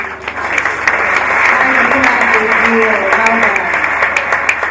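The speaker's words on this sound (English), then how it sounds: "Round of applause." Loud, sustained audience applause fills a hall at a live event, dense clapping with cheers and a voice calling out over it.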